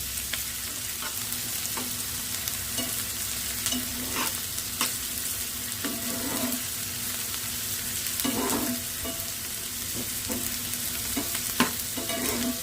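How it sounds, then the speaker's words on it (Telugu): Onions frying in oil with cumin seeds, a loud continuous sizzle with occasional light stirring scrapes and clicks, close up and without voices. "ఆనియన్స్ అయితే ఇలా వేయించుకుందాం."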